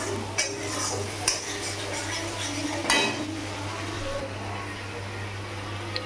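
A spice masala fries gently in oil in a pan, giving a soft, steady sizzle under a low kitchen hum, with a few sharp clinks and scrapes of a metal spoon stirring against the pan.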